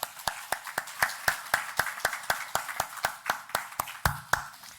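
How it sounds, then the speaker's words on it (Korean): A Sunday worship congregation claps in unison, a steady rhythmic beat of sharp, evenly spaced claps, roughly four per second, fairly close and clear with no talk over it. "우리 하나님께 감사와 영광의 박수를 올려드리겠습니다."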